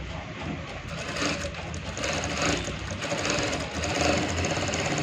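A sewing machine runs steadily while stitching a shirt collar, its fast, even mechanical chatter close and loud for several seconds with no voices.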